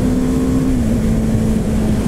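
A 2017 BMW G 310 R single-cylinder motorcycle engine holds a steady, high-pitched drone at sustained high revs, loud and close with constant road and wind noise beneath it.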